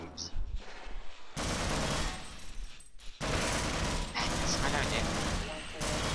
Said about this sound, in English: Shooting you with a machine gun, die.